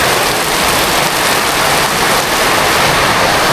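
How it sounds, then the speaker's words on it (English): Heavy wet-season rain in Bali pours down steadily, a dense, continuous hiss of drops drumming on surfaces close by, loud and unbroken throughout. "Just look at this for a rain. It's pouring."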